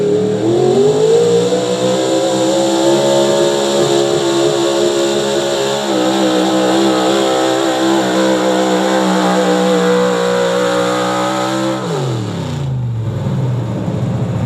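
A heavy pulling truck engine roars at full throttle at a truck and tractor pull in New Lexington, Ohio, revving steadily and loudly for several seconds before the pitch drops sharply as it winds down.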